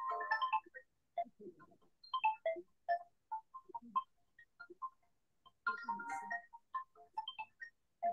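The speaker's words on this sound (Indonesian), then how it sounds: "Bukan izin dulu bentar ada yang telepon ya." A phone ringtone plays for an incoming call during an Islamic lecture, a melodic electronic tune repeating in short bursts, fairly loud and close, with no talk over it.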